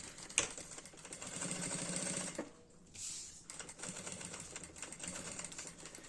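Sewing machine stitches fabric in quick rapid bursts, pausing briefly midway before running again at a moderate, fairly quiet level.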